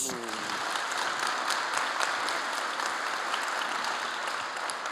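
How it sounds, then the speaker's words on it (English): An audience at an energy-industry pitch competition breaks into sustained applause, a dense, even wash of clapping hands that fills the room loudly from start to finish, with a brief voice at the very beginning. "First, a round of applause for all the pitches."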